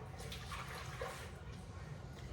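Milk being poured into a bowl for a chocolate pudding layer, a steady continuous liquid pour with a soft splashing wash that runs unbroken throughout at close range.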